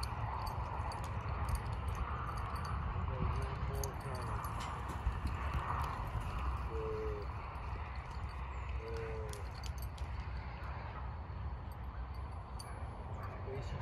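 Hooves of a young horse being worked in training, a steady clip-clop under a voice talking, with a continuous low rumble of wind or movement throughout.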